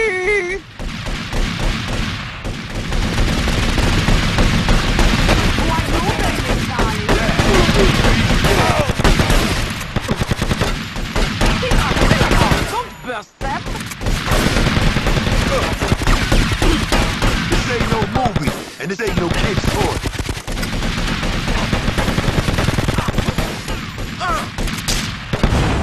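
Rapid, sustained gunfire in GTA Vice City Stories, dense bursts and volleys of shots rattling almost nonstop with short breaks, loud and close, with occasional voices under the shooting.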